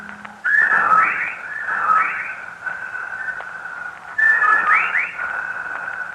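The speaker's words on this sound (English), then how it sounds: "legion of whippoorwills cried loudly and rhythmically, endlessly" Repeated whistled calls of whippoorwills sound in rhythmic bursts, three distinct phrases rising and falling, with a faint echoey background between them, in a 1945 radio drama.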